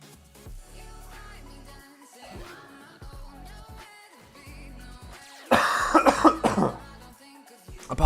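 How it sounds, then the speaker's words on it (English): Someone coughs in a harsh burst of several close, loud coughs near the end, following quieter background sounds. "Apologies for the coughing"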